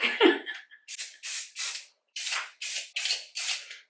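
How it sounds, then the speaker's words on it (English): Several short hissing bursts of hair shine spray in a quick sequence, close by, with brief pauses between them. "so that's a shine spray"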